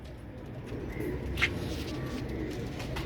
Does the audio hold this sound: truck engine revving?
no